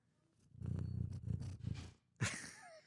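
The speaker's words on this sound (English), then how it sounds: "this is the cat" Low rumbling purr pulses close up for a second or so, followed by a brief sharp higher cry.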